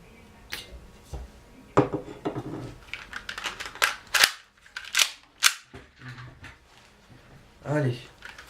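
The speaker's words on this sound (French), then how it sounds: "Donc je vais tirer 3-4 coups histoire que vous voyez un peu la culasse mobile, la détente de ce PA." M1911 gas blowback airsoft pistol from Bell firing several shots, sharp snappy cracks with slide clacks at irregular spacing, close and loud, with someone talking between shots.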